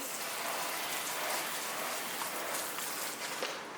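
Steady hissing spray of water onto a waterproof addressable fire alarm sounder, like a dense shower pattering on a surface, continuous and fairly close throughout.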